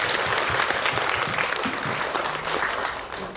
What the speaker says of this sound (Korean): 그냥 박수를 한번.